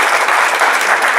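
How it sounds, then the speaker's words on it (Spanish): A church congregation applauding during a Spanish-language sermon, a dense, loud, continuous clatter of many hands close by. "el aplauso."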